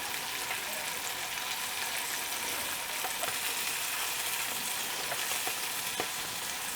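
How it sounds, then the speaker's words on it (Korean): Flour-coated canned saury frying in a pan over high heat, a steady, moderately loud sizzle with faint crackles throughout. "꽁치를 구울 거예요"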